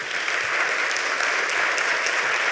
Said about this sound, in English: Matt, stand up for a second because you deserve some applause.